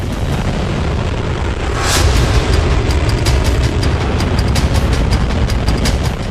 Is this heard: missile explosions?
yes